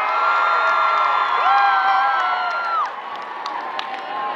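Crowd of high school students cheering and shouting at a homecoming assembly, a loud sustained roar of many voices with whoops that drops off sharply and settles into a lower murmur.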